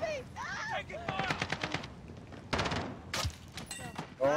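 Gunfire in the Warzone video game: bursts of rapid automatic shots and single cracks, loud and close, with a person speaking in between.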